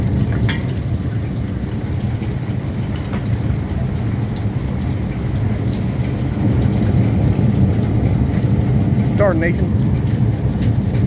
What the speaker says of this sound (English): The rain should end soon